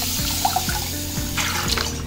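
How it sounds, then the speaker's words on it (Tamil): Water is poured from a tap or vessel into a wide pot for cooking milk rice, a steady splashing stream at close range, heard without talk over a low background hum. "இப்போ ஃபஸ்ட்டு நம்ம இதில் தண்ணி சேர்த்துக்குவோம்."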